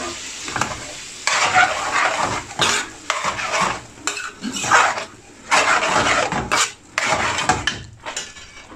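Half a cup of gravy goes into chana masala in a hot pan, then a spoon scrapes and stirs in loud, rhythmic bursts over a steady sizzle, close up with short pauses between strokes.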